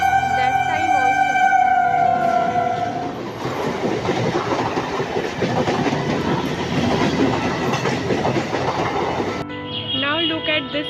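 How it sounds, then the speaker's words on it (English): A train rumbles past close by, wheels clattering steadily, with a horn-like tone at the start and a high siren wail near the end. "See, the train is coming,"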